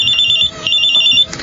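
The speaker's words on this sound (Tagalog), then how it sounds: "May tumatawag sa cellphone ko." A cellphone rings with an incoming call, its bright electronic ringtone pulsing loudly in short repeated bursts, heard alone with no speech.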